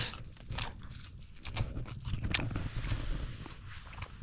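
Close, crunchy chewing of a bite of skewer-cooked trout with flaky white meat, soft irregular mastication sounds carrying on steadily with no talking.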